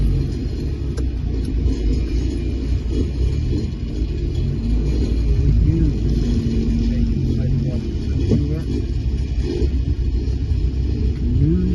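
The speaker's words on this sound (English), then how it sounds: "now we're going to take a little drive through the little village of" A car drives slowly through the small village of Nature's Valley, South Africa, with a steady low interior rumble of engine and road noise throughout, heard from inside the vehicle without clear talk.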